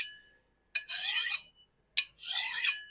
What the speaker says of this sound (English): I'm just going to grab the stone and sharpen like this.